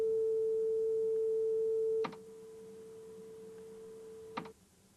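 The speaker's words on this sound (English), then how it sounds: "Here again I have our sine wave at 440 hertz, but below it I have a sine wave at the same pitch" A pure 440 hertz sine tone sounds steadily, then drops to a quieter level at the same pitch and holds, with a couple of faint clicks where it changes and where it cuts off.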